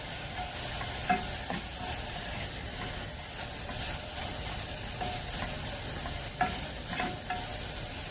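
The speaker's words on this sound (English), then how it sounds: "Give it a stir." A quinoa mixture with turmeric and salt is stirred in a pan, giving a steady close frying hiss broken by a couple of sharp utensil knocks and soft scraping, with no talk.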